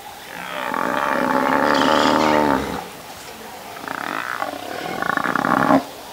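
Lions roar and growl at close range while buffalo bellow and low during a clash in the wild; two loud, drawn-out bouts of roaring are separated by a brief lull, with no talking.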